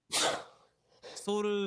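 A sharp, loud sneeze bursts out at the start and is followed by a short pause, then people talk at a tabletop Dungeons and Dragons game session.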